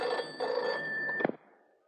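A telephone rings once with a short electronic trill that cuts off abruptly and fades, heard alone and fairly faint.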